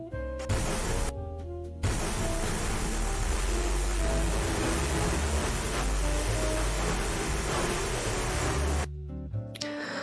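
An AI-generated water sound effect gives a loud, steady rushing wash like pouring or flowing water that fills most of the span, beginning and ending abruptly.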